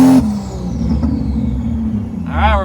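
Car fitted with a bigger turbo wastegate pulling under acceleration, a steady mid-pitched engine drone and rumble with a rising whine, growing louder near the end.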